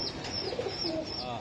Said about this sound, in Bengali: এটা ভাই সবুজ গলা, সবুজ গলাটা কবুতর